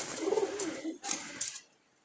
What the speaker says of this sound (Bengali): সব ধরনের কবুতর এখানে আছে